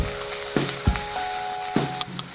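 Onion and salt cod fry in a pan for a rice dish. A loud, steady sizzle is heard up close, broken by a few sharp scraping stirs, with no talking.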